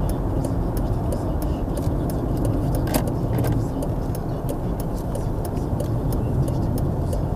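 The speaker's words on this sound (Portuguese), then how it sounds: "O trânsito aqui na entrada da cidade." Steady road traffic at the entrance to the city of Aveiro, Portugal, heard from inside a moving car as a continuous low rumble with scattered light ticks and clicks.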